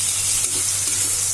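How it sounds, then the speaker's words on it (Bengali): Jackfruit spice mix frying in a pan gives a steady, close, brisk sizzle that continues without a break for just over a second. "কাঁঠালের মশলা ভাজা হচ্ছে।"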